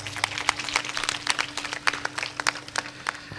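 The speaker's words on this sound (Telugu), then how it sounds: "గట్టిగా చప్పట్లు కొడదాం." A congregation at a Catholic feast of Our Lady of Lourdes applauds loudly, with dense, continuous clapping from many hands filling the space and no talking.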